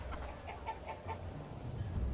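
Chickens clucking in the village-building game Manor Lords, a quick series of soft clucks heard faintly over a low background hum.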